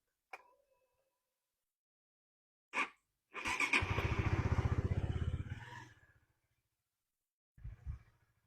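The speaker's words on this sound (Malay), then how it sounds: "Jom kita dengar dia punya engine." A 2020 Honda RS150R V2 motorcycle engine starts up, running for a couple of seconds with a rapid ticking idle before cutting out, bracketed by short clicks and a brief later burst, near and fairly quiet.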